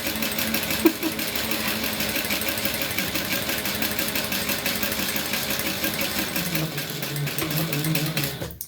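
A sewing machine backstitches a seam, its motor whirring in a fast, steady mechanical chatter that runs for several seconds with a slight drop in pitch near the end, no voices.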